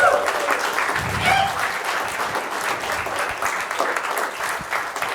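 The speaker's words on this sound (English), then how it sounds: "another round of applause" A roomful of people clapping steadily for several seconds, a dense even patter with some cheering mixed in.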